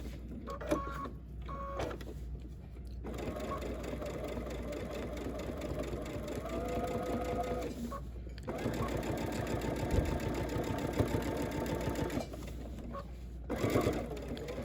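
A sewing machine stitching quilt binding runs in long steady bursts with brief pauses between runs, close and fairly quiet, with no speech over it.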